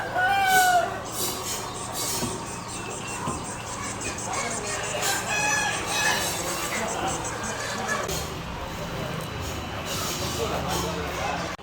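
Chickens and a rooster at a roadside chicken shop in Karkala cluck and squawk in scattered bursts, fairly close, under people talking and general street noise throughout.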